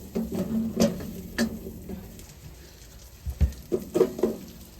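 Chopped onion frying in a pot inside a tiny cabin during winter camping: a soft, steady sizzle with occasional louder pops and stirring knocks.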